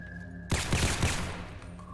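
Rapid automatic gunfire in Fallout 4, a sudden loud burst of several quick shots in a row that then fades out.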